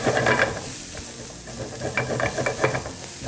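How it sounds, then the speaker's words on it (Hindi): Onions and garlic softening in a pan for creamy Tuscan chicken, a steady close sizzle and hiss with light stirring scrapes, no voices over it. "you don't have to colour your onions और the garlic, just soften them"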